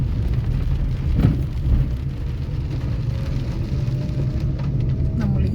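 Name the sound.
light rain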